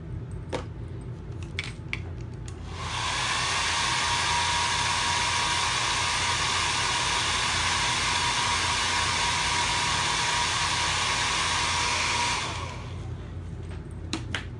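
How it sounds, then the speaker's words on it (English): A hair dryer blow-dries a chalk paste design on kitchen decor, a loud steady close whoosh running for about ten seconds, preceded and followed by light handling clicks and taps. "I'm gonna blow dry this one real quick"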